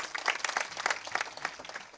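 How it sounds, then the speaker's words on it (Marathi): An audience claps loudly and steadily at a kirtan religious gathering, a dense burst of applause with uneven individual claps that continues for the whole stretch. "त्यांच्यासाठी जोरदार टाळ्या वाजवा"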